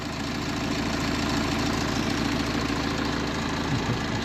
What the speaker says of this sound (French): Donc on est au ralenti, véhicule à plat